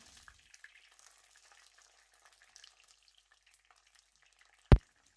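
Faint, steady sizzling of plantain frying in oil, mostly quiet, ending with one sharp knock.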